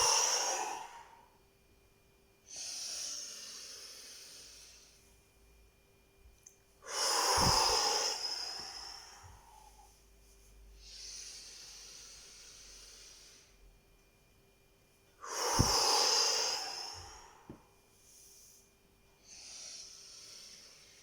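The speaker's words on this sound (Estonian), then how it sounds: "Niisiis 3 välja hingamist." Deep exhalations during a seated breathing exercise, several long, forceful breaths out at intervals, some strong and close with a rough hissing rush, others softer, with a faint steady hum beneath.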